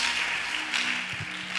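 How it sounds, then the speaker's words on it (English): A church congregation claps together, a steady wash of many hands at moderate loudness, with a low voice surfacing briefly near the end. "Very simple to clap your hands."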